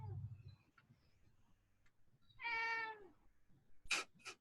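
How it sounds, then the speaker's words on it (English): A house cat gives one clear, drawn-out meow close to the microphone, followed by a couple of short, sharper sounds. "Yeah. My cat."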